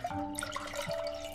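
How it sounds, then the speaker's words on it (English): Water poured into a pan on a gas stove gives a close, continuous splashing trickle with bubbly drips over a faint steady hum. "I add water to the pan."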